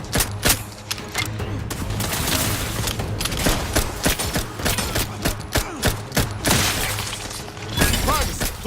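Dense, rapid gunfire from The Outer Worlds 2, with overlapping bursts and impacts rattling steadily across the scene, loud and close with a low hum beneath.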